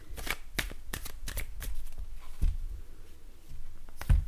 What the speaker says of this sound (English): Sometimes I forget with the shuffling, folks, with this new microphone setup